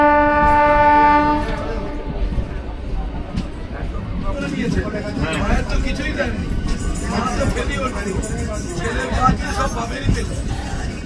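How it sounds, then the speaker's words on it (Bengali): A train horn sounds loudly with steady harmonic tones at the start as the train leaves Digha station, then gives way to rumbling wheels and a busy hum of people talking nearby. "দীঘা স্টেশন থেকে ট্রেন কিন্তু আমাদের ছেড়ে দিয়েছে একদম কাটা অনুযায়ী 5টায়"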